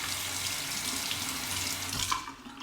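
Tap water runs steadily into a sink as a German-made everyday shaving razor is rinsed under it, a close, continuous splashing rush that tapers off at the end.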